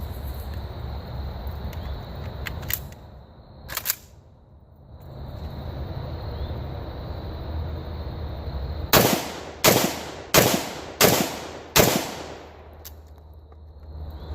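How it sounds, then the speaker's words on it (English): Rapid-fire shots from a 5.45 rifle fitted with a BD3-AKD muzzle brake ring out at an outdoor range: a few scattered early cracks, then five sharp, loud reports in quick succession, each with a brief echo, over a steady buzz of insects. "we're gonna take some rapid fire shots with this"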